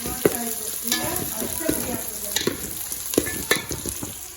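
Stirring and frying in hot oil in a kadai, with steady sizzling and sharp scraping clinks of a spoon against the pan at irregular intervals, close and moderately loud, no talking.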